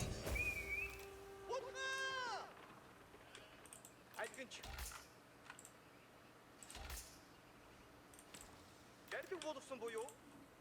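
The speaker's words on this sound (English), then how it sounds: "Do need to get back and drop off some sheep." Sheep in the Age of Empires IV strategy game give a clear wavering bleat near the start, followed by scattered clicks and game effects, with a second brief bleat-like call near the end.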